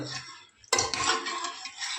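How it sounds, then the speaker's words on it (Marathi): Chicken masala stirred in a pressure cooker after water is added, starting with a sharp scrape of the spoon against the metal pot, then continuous close clinking and scraping with no talk. "हलवून घेऊया"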